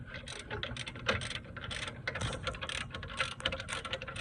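Rapid clicking of a ratchet wrench turning an 18 mm bolt during CV axle replacement on a 2016 Chevy Malibu, a steady run of close, dense mechanical ticks with no talk.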